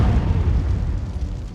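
A bomb goes off in a crime film about a man hunted by the mafia: one deep, rumbling blast that rolls on as a heavy, steady roar, with no voices over it.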